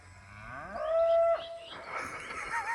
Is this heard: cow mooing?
yes